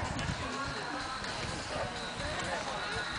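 Horse hooves pound the ground in a steady galloping rhythm during a horse's first equestrian competition, amid a noisy, crowded outdoor background, with voices murmuring throughout.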